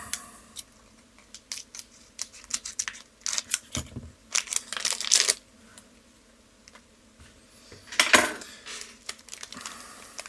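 Scissors snip and cut through a foil Magic: The Gathering Innistrad: Midnight Hunt booster pack in crisp, crackly bursts, heard close and up front, with a few clusters of cutting and crinkling.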